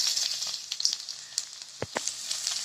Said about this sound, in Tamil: அது நல்லா ஹீட் ஆனோடனே பூண்டு சேர்த்துக்கோங்க